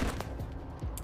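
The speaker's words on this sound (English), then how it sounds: "Oh, they're shooting the gun." Gunfire rattles through a combat encounter in the post-apocalyptic game Wasteland 3: a short, dense burst of shots over low, rumbling background noise, moderately loud with no voices.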